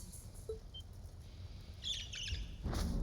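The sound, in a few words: bird chirping in the video game Trails of Cold Steel II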